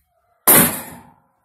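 A cell phone thrown against a Vestel unbreakable TV screen in a shop gives a single sharp smack that decays within about half a second, set against near silence.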